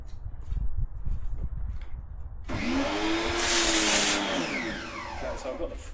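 A pressure washer fitted with a white 40-degree nozzle sprays out a gutter, its loud, steady hissing roar with a whining tone starting partway through after someone speaks briefly, then holding strong to the end.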